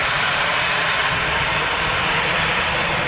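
Jet engines of a Norwegian Boeing 737 MAX 8 preparing to depart Dublin Airport for Copenhagen give a loud, close, continuous hissing roar that stays even and unbroken, with no talking.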